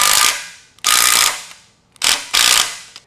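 A ratchet tightens bolts during assembly of a glute ham developer exercise machine, four loud close bursts of rapid clicking, each fading as a stroke ends, with brief pauses between.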